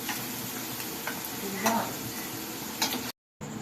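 Paneer frying in oil in a pan, a steady crackling sizzle with a few light clicks and scrapes, close and moderately loud, ending abruptly.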